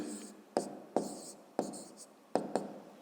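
Pen on paper in an exercise book as numbers are written for a fifth-grade maths exercise, five sharp tapping strokes spaced unevenly with faint scratching between them, close and quiet.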